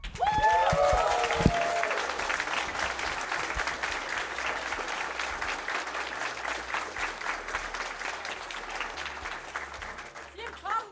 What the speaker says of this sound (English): Can we get some claps?